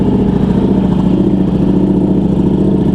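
Ducati Streetfighter motorcycle engine running steadily up close on a morning commute, a continuous low throbbing drone with constant loudness and no voices.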